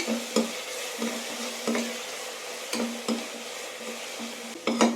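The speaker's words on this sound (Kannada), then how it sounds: "ಇವಾಗ ರುಬ್ಬಿಟ್ಕೊಂಡವರು ಮಸಾಲ ಹಾಕ್ಕೊಳ್ಳೋಣ. ಸ್ವಲ್ಪ ಇದು ಹಸಿ ವಾಸನೆ ಹೋಗೋ ತನಕ ಹುರ್ಕೋಬೇಕು." Ground green masala paste frying in oil for mushroom biryani, a steady close sizzle broken by periodic scraping stirs of a spoon against the pan, with no talking.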